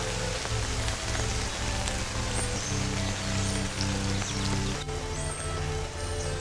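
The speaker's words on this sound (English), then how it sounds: "So the rain will be good for the grass." Steady rain falls on an overgrown, sun-dried garden and lawn, a dense continuous patter of drops on surfaces holding even and fairly loud from start to finish.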